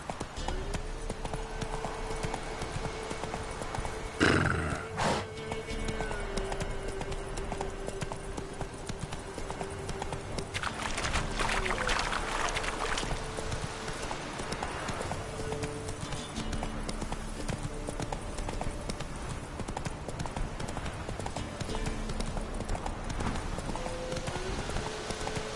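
Roach, a horse in a video game, gallops with a steady, rapid clip-clop of hooves throughout, with a brief sharper clatter and a soft whinny-like tone among the rhythmic beats.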